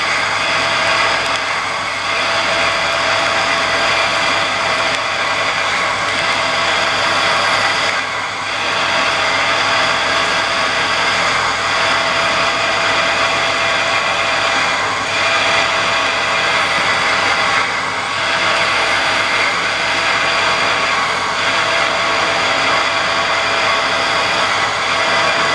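Metal lathe boring a pilot hole in 1045 steel for an airplane propeller hub coupling, a steady loud mechanical drone with periodic slight dips in intensity and no voices.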